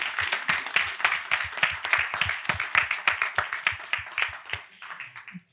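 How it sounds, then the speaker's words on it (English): Audience at a museum conversation event applauds the speakers, a close, lively round of many hands clapping that carries steadily for several seconds and then fades out. "Can we get a round of applause, please?"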